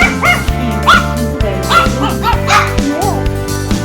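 Several small puppies yipping and barking in quick, excited bursts, close and loud, with whimpers mixed in and a person speaking briefly.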